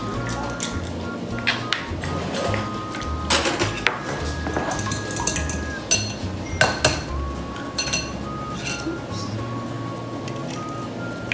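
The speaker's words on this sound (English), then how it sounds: "The first thing we're going to do is we're going to add the eggs in a bowl." Eggs are cracked and knocked against a bowl while making a yogurt cake, a scattered series of sharp clinks and taps among kitchen clatter, with a person talking in between.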